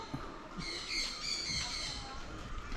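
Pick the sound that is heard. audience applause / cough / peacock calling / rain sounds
peacock calling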